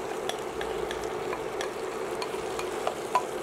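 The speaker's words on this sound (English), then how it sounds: "So now I'm going to add in my beautiful tuna here." Flaked, drained tuna, about 360 grams, tipped into a creamy mixture in a pan and stirred, giving a soft continuous wet sizzle and scraping close by with scattered small clicks, no voices.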